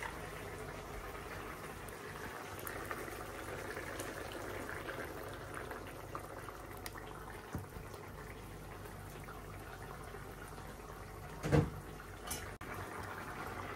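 Curry with mustard paste simmering in a pan, a steady bubbling hiss of the sauce that holds fairly even throughout, with one brief louder clink near the end.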